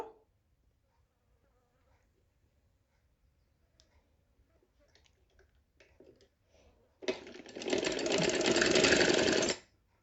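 After faint clicks and fabric handling, an electric sewing machine stitching kurti fabric runs in a single loud, close, buzzing burst of about two and a half seconds, then stops.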